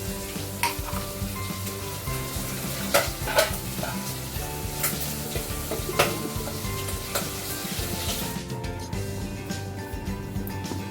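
Chicken simmering in coconut cream, a continuous close bubbling sizzle with occasional sharp clicks of a spoon or lid against the pot throughout.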